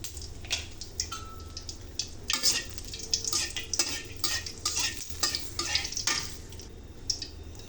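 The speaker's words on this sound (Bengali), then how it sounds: "তেলটা গরম হয়ে এসেছে। এবারে আমি জিরা আর শুকনো মরিচ দিয়ে দিলাম।" Cumin seeds and dried chillies sizzle and crackle in hot mustard oil. A utensil scrapes and clinks against the pan in irregular bursts over the steady frying hiss, close and moderately quiet.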